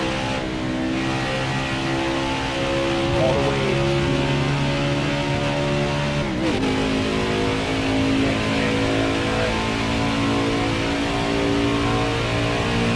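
Gen 6 NASCAR race car engines roar at Daytona in a racing video game, a loud sustained whine with steady tonal harmonics and a brief pitch shift partway through. A voice briefly speaks.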